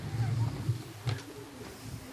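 Racing pigeons at a loft in Tuchola, Poland, give a few low, soft coos in short bursts near the start, with faint outdoor background and a voice briefly present.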